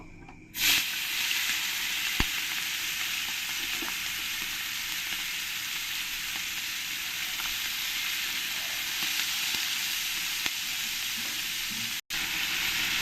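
Prawns coated in salt and turmeric fry in hot mustard oil, giving a loud, steady sizzle with a bright hiss throughout, broken by a few small pops and one brief dropout near the end.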